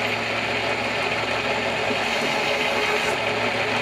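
An RCBS Brass Boss case prep machine, fitted with a 9mm bore brush and a small primer pocket cleaner, runs with a steady, even motor hum and whir that stays close and constant.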